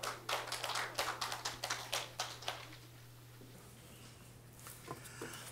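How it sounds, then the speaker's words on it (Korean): Scattered applause from an audience, a quick patter of claps that fades out after a few seconds, heard faintly from a distance. "박수를 부탁드립니다."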